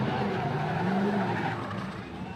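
A Formula Drift car spins out during top 32 competition at Long Beach in 2016, its tires squealing and skidding in a loud continuous roar of engine and rubber, with crowd noise and faint commentary beneath.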